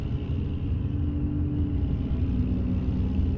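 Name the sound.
truck engine rumble from a video game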